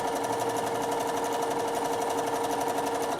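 A sewing machine stitches along the outside edge of fabric in one steady, close, continuous mechanical whir that carries on without pause, with no voice.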